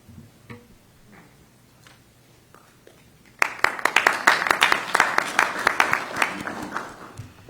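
Audience applause breaks out at a county legislative delegation public hearing after a quiet stretch, a crowd's dense clapping sustained and fairly close for the last four seconds.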